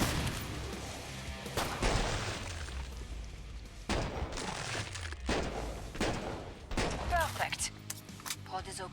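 A lever-action rifle in Killing Floor 2 fires as a string of loud, booming shots spaced a second or so apart, each with a decaying tail, mixed with reload clicks and other game combat noise.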